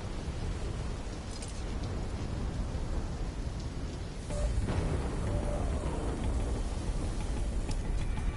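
A rainstorm with thunder rages in a video game: continuous heavy rain hisses throughout, and a deep rolling surge of thunder swells midway and stays loud to the end.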